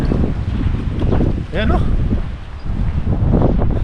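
Strong wind buffets the microphone in loud, roaring gusts in Edmonton, Alberta, with a few brief exclamations from a voice partway through.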